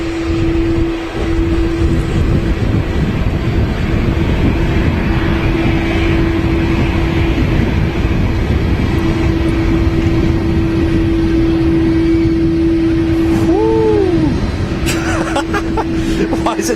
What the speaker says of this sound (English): It's a really loud aircraft, this.